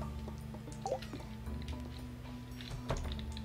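Watering can pouring over greenhouse crops in Stardew Valley, heard as soft dripping, splashing game sound effects over a steady low background music hum, with a couple of brighter splash accents.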